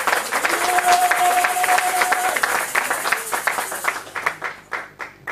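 A church congregation applauds together as a crowd, dense clapping with a sustained tone and voices underneath, the applause thinning into scattered claps toward the end.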